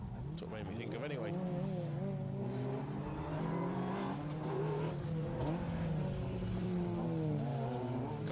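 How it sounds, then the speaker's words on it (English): Car 77, a stage rally car at the SMC Stages Rally on the Protyre circuit championship, roars past with rising and falling engine pitch and gear changes, loud and near, under a commentator's voice. "Car 77 back through with us then, Paul Green, Andrew Side."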